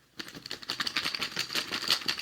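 Wooden or plastic tokens for the Augustus board game shuffled in a cloth bag, giving a quick run of close, dense rattling clicks after a brief quiet start.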